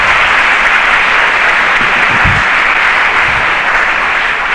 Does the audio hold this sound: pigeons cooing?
no